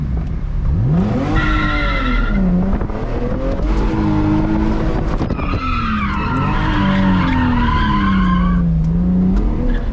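Lexus IS300 drift car with a manual swap, its tires skidding loudly under handbrake as the engine revs and whines across the whole stretch, close and continuous with squealing tones rising and falling.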